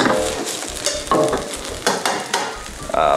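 Linguine with ham and Mexican spice sauce stir-fried in stock over high heat, sizzling loudly and continuously with repeated stirring scrapes and clatters of a ladle against the pan, no talking.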